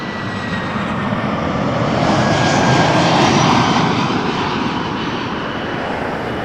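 An airliner comes in to land at Toronto Pearson Airport, a loud sustained engine roar with a thin whine that swells toward the middle and eases off, with no voices.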